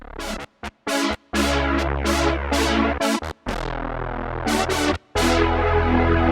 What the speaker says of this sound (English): Let's go back to my chorus now and use the DelVerb to add some reverb.